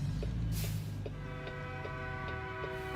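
A train rolls past a heavy-haul truck, its deep rumble steady beneath a sustained horn blast that sounds through most of the span, fairly close and loud, no talking.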